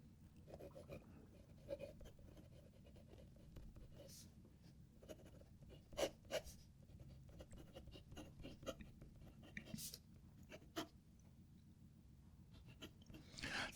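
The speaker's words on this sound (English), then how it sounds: "I can hardly feel it writing sometimes, but yeah, it's got that nice audibleness to it." A Namiki Inception fountain pen with a fine nib writing on paper, with faint, close scratchy strokes and small taps coming in irregular bursts, with a quiet voice at times.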